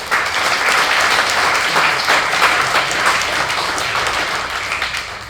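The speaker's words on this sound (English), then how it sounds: "So give them a round of applause." Audience applause after a panel discussion, a dense, steady burst of clapping from a room full of people that holds at full strength and fades slightly toward the end.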